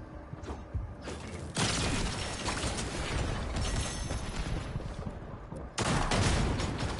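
Rapid gunfire in Fortnite: a couple of short bursts, then long sustained automatic volleys that break off briefly and resume, loud and close, with no talk.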